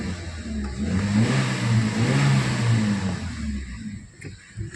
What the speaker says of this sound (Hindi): चलो अभी मैं आपको इसकी रेविंग करके दिखाता हूँ।